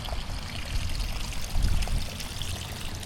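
A rain-swollen creek runs after a four-day rainstorm, its water rushing and gurgling in a steady, close wash that rises slightly midway, with no talk.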